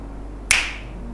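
A single sharp finger snap rings out close to the microphone, short and crisp with a brief decay, over a faint low background hum.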